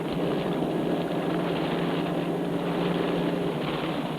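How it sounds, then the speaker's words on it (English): Powerboats in the 1965 Cowes–Torquay offshore race thrash through the sea toward the Needles, a loud continuous engine roar mixed with wind and water rush, steady and unbroken. "the powerboats themselves were thrashing their way towards the Needles"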